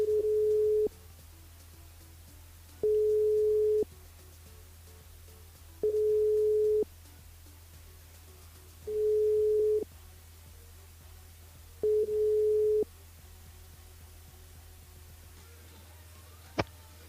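A telephone line rings out as a radio show calls a listener: five evenly spaced one-second tones repeat over a steady low hum, ending with a brief click.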